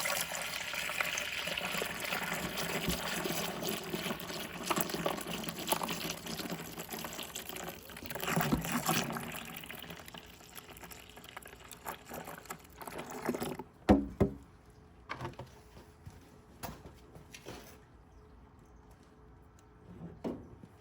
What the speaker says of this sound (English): next is a whole gallon of whole milk.